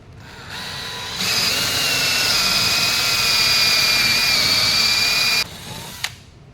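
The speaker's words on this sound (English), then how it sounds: "I'm going to drill the other one here." A power drill spins up and drills a 3/4 inch hole for a deck plate fastener continuously for several seconds with a high whine, then cuts off, leaving a short clunk.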